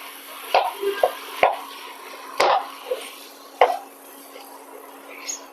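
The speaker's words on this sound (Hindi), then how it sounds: "खोए को बराबर चलाते हुए हलवे में मिक्स कर लिया है।" Fresh homemade khoya being stirred into carrot halwa in a pan, with intermittent soft scrapes and thick plopping stirs at irregular intervals, close and moderately quiet.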